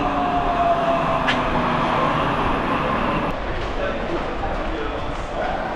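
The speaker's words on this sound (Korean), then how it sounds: "지금 이제 지하철 환승하러 왔습니다." Budapest metro station underground, with a steady loud rumble of a train and station noise filling the space, a faint high whine and distant clanks throughout.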